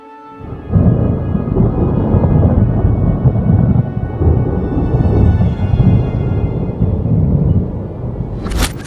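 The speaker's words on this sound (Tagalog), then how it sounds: "Isang gabing malakas ang bagyo" A night thunderstorm in a horror short film: a heavy, continuous rumble of thunder with rain, loud and sustained for several seconds, with a sharp crackling burst right at the end.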